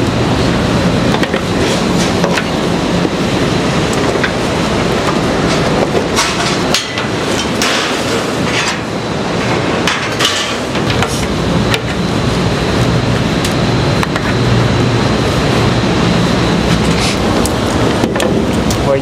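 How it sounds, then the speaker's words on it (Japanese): Loud, dense metallic clanking and ratcheting as a lever block hoist is cranked to tighten wire rigging holding steel scrap on a truck, continuous clatter with sharp knocks throughout. "ギア引っ掛けてレバーブロックいきます締めていきます"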